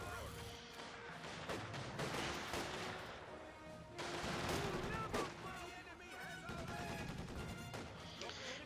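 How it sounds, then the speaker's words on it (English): Heavy mortar and rapid gunfire in Company of Heroes 2, a dense battle of repeated blasts and crackling shots, with speech faintly mixed underneath. "T-70 being repaired here, heavy mortar firing away."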